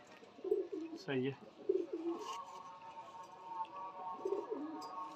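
Pet racing pigeons coo in short, soft, low bursts close by, several separate calls spaced across a few seconds, with a man's brief speech in the background.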